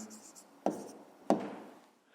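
A hand writes an answer on paper, two sharp taps of the pen striking down followed by brief scratchy strokes, close and quiet.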